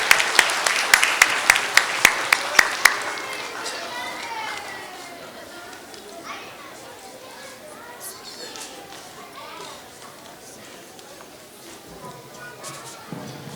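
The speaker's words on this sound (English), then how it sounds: "Can we give another round of applause?" Veterans Day school assembly audience claps, a few sharp loud claps leading into a thinner, fading patter of applause with children's voices and chatter continuing underneath.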